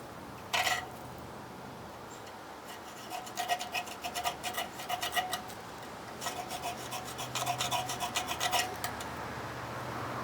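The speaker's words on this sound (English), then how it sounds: "You scrape off some rust." Rust is scraped off metal outdoors for fire-making, heard as bursts of rapid rasping strokes, close and fairly quiet, with pauses between bouts and no talk.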